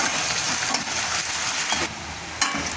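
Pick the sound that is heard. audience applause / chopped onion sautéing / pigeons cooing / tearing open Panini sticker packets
chopped onion sautéing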